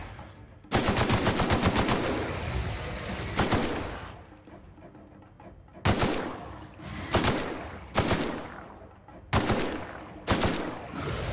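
Automatic weapons fire in bursts while shooting enemies in The Outer Worlds: roughly seven loud, sustained volleys of rapid shots, separated by short quieter gaps.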